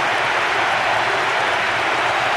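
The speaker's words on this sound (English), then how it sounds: "The crowd's on its feet with excitement and appreciation." Stadium crowd in the PES 2010 football game roaring after a goal, a dense, loud, unbroken wash of cheering and clapping.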